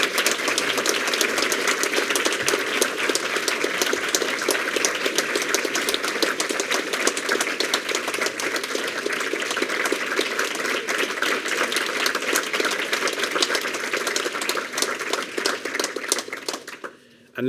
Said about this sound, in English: So Stuart, we'd like to give you a big thank you and a big round of applause.